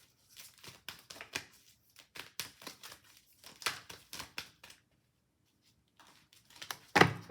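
Tarot cards are shuffled by hand in a quiet room, giving a run of crisp riffling and flicking bursts in uneven clusters, a pause, then a final louder snap of cards; no talking.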